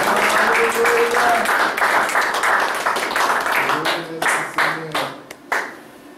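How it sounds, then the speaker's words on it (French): A congregation claps for the Lord during a lively French-speaking church service, a dense wash of applause mixed with raised voices that thins into scattered claps toward the end. "Acclamez pour le Seigneur."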